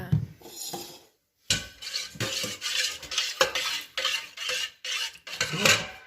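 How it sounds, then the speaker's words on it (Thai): A spoon stirs yeast and salt mixture for homemade pizza dough in a bowl, making rhythmic scraping and clinking strokes close by, broken by a brief pause, with no talking. "คนให้เข้ากันค่ะ"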